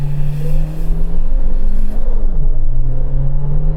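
Suzuki Jimny turbo launching from a standstill in four-wheel drive on a damp, low-grip surface, with a loud, close engine rising steadily in pitch, a brief dip partway through, then pulling hard again.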